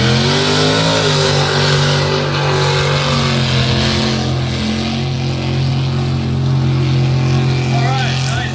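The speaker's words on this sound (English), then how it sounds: "this is the very first truck in the hole right here" A truck engine revs loudly and steadily, the first truck into the hole, with people talking over its continuous roar.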